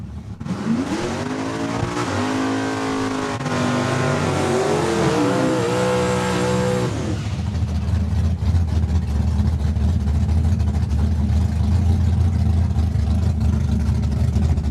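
Drag race cars at Saskatchewan International Raceway during first round eliminations, engines revving high and climbing through gears before roaring off, then a loud sustained rumble that stays close and steady to the end.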